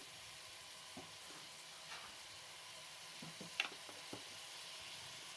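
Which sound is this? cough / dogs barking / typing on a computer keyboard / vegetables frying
vegetables frying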